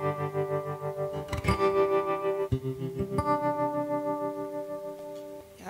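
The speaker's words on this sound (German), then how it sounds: "Und das Tremolo kann ich euch auch nochmal kurz zeigen, das hört sich so an." Strummed electric guitar chords pass through the tremolo effect of a Fishman pedal, the volume pulsing in a steady wobbling rhythm, fairly quiet and without talk.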